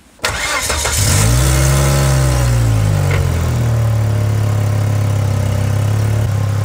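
A Volvo S60 engine starts and settles into a loud, steady idle, with a rough, puffing exhaust rasp from a leak near the front wheel running throughout, close by.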